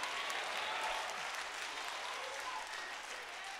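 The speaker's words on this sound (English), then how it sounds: "Somebody clap your hands" Church congregation clapping their hands together in a sustained, steady round of applause that fills the room and fades slightly toward the end.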